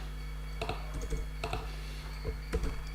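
Computer keyboard keys pressed in a quick shortcut while editing code, producing a few short, close plastic clicks in small clusters over a low steady hum.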